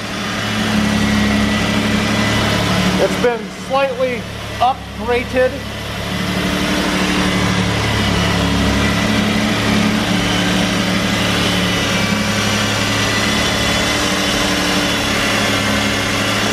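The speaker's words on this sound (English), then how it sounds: "Got a nice running six cylinder." A 1991 Alfa Romeo 164 six-cylinder engine running at a steady idle, a loud, close, continuous drone, while someone speaks briefly over it near the start.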